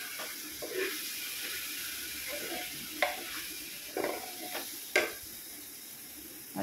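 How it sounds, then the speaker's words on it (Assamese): Rice grains frying and being stirred in a pot in a home kitchen, with a steady low sizzle broken by several sharp scraping stirs of the spoon, heard close and alone. "ভালদৰে ভাজি লওঁ চাউলকেইটা।"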